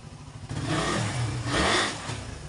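A Suzuki Raider 150 carbureted motorcycle engine, freshly refreshed at 40k odometer, revs up in two swells from idle, fairly loud and close with no talking.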